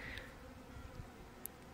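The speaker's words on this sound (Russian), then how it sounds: "пчелки-нелепушки работают," Honey bees buzz around their hives outdoors in a faint, steady hum with a couple of brief higher insect whines passing close, and no talking.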